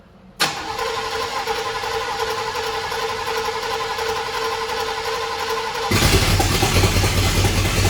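A car engine cranks with a sharp catch, whirs steadily for several seconds, then fires and settles into a louder, rougher run with no exhaust fitted, close and alone.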